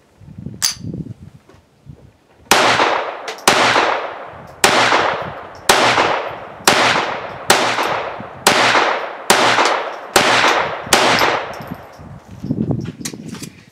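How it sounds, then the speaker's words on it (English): Browning Buck Mark .22 LR pistol firing Winchester white box rounds: about ten sharp, evenly spaced shots in quick succession, loud and close, each with a short decaying ring. "I'm firing the Winchester like white box stuff"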